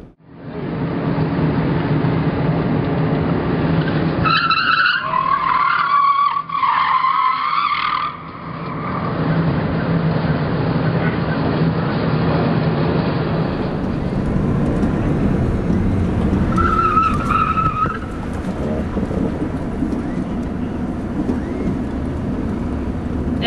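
A car skids on a wet skid pad during a law enforcement driving course, its engine droning steadily and loud throughout while tires squeal in a few sharp bursts.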